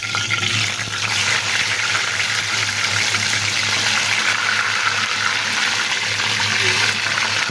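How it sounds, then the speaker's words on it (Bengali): Marinated chicken pieces frying in hot oil in a pan, a steady close crackling sizzle with broadband hiss running continuously and evenly throughout. "এখন আমি চিকেনটা দিয়ে দিচ্ছি।"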